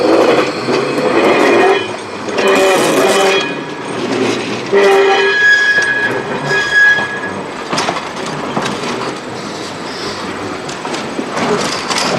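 An open-air electric trolley car rumbles and clatters along steadily, with metallic squeals and clicks from the wheels, loud and close, no voices.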